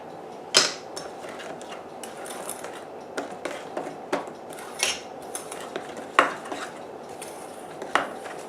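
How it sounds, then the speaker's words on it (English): A metal spoon folding apple cake batter in a bowl, producing repeated clinks and scrapes against the bowl at an irregular pace, close and clear without talk. "We mix this in with a metal spoon because we don't want to squash the air out"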